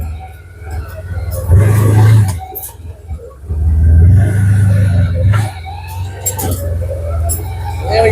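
An off-road vehicle's engine revs in loud, close surges while climbing over a log on a bush track, with a voice talking between the bursts.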